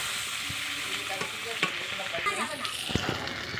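Potatoes, eggplant and tomato sizzle and crackle steadily in a hot pan, with occasional scrapes and knocks of stirring against it.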